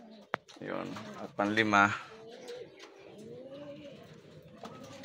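Racing pigeons coo in a few soft, low, warbling calls close by, with someone speaking briefly between and over them in a quiet outdoor loft setting.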